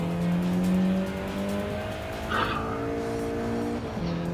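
A car in Gran Turismo 7 loses control on the Tokyo Highway, engine droning with shifting revs as tires squeal briefly in a short skid midway, game music and effects underneath.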